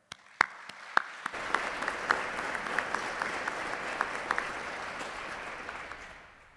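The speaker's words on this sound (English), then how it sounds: "Please join me in a round of applause for my cadre." Applause from a crowd at a military graduation ceremony, sharp early claps settling into a steady clatter that fades toward the end, fairly distant.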